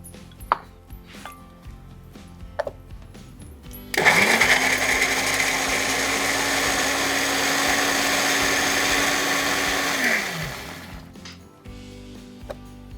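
An electric mixer grinder whirs loudly and steadily for about six seconds, blending a spice paste for Bengali mustard chicken curry with raw mango, then spins down, with light kitchen clatter before and after.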